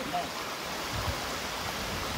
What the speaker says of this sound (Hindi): सो फाइनली हमको रानी दरहा वाटरफॉल मिल गया है और पानी भी मिल गया है।